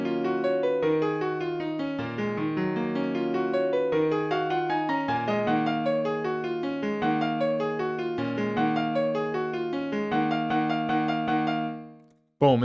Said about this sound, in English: Without effects, the piano sounds like this.